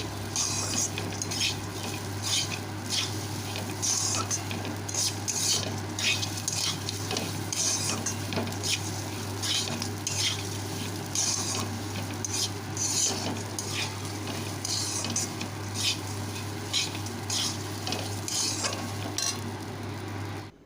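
Gobindobhog rice being fried and stirred with a little salt in a pan, with steady close sizzling and repeated scraping and clinking of a metal spoon against the pan throughout, over a constant low electrical hum.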